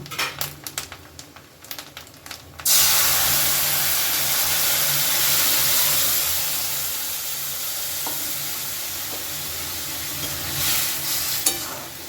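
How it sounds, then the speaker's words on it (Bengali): Mung dal tipped into a hot pan for a ridge gourd curry, bursting into a loud, steady sizzle after a few clinks of the pan, with stirring scrapes running through the frying hiss. "এবারে এর মধ্যে আমি ডালটা ঢেলে দেব"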